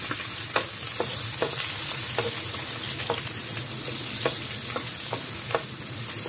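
Garlic and onion fry in hot oil for pancit canton, a steady close sizzle with occasional light taps of a utensil stirring the pan, no voices.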